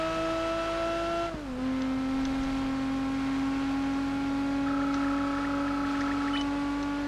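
Aston Martin race car engine in the racing video game Project Gotham Racing 4 drones at a high steady pitch, dipping briefly through a gear change before holding on, loud and close with no speech.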